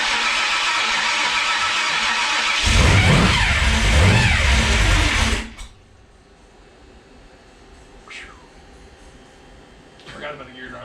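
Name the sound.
big block engine starting and revving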